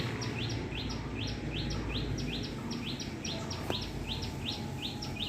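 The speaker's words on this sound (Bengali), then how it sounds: "আর কি সুন্দর শব্দ পাখি" Birds chirp in a steady, rapid series of bright tweets over a constant background hum, with one brief click partway through.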